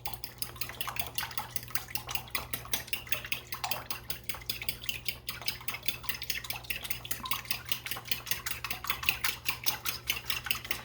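A whisk or fork beats egg and milk together in a bowl, a fast, steady rhythmic clatter against the sides that keeps going without a break, close and moderately loud, with no talk.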